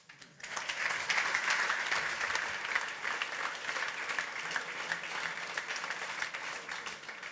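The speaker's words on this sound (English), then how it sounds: "a warm applause for Max Stoiber" A conference audience applauds a speaker being introduced at a front-end tech event in Zurich, a dense, steady wash of many hands clapping that swells quickly and continues evenly throughout.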